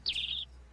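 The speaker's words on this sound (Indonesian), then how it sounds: "membeli sebuah mainan burung dalam sangkar" A toy bird in a cage gives one clear, high, sliding electronic chirp lasting under half a second, close and alone with no talk.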